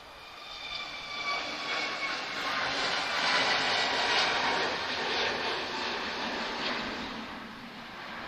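A TAP Air Portugal Airbus A321 bound across the Atlantic takes off at Lisbon Airport, a broad, steady jet roar swelling toward the middle and slowly easing, heard from some distance with no voices.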